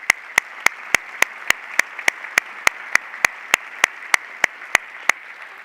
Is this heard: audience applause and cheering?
yes